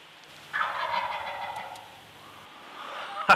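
A turkey gobble imitated by blowing on a blade of grass held between cupped fingers, a loud rattling burst lasting about a second and fading out, followed by a sharp click at the end.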